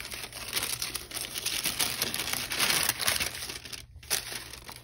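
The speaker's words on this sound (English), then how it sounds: "So I will unwrap this." A package of planner stickers is unwrapped close up, with soft crinkling and rustling of plastic wrap going on steadily for several seconds before a short pause and a final crackle, with no voice.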